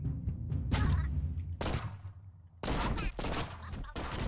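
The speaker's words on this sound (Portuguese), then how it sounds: "no jogo, tô tomando tiro." Bursts of rapid gunfire in short volleys, with heavy thuds between them, loud and close, from the gum-bullet shooting video game Gumslinger.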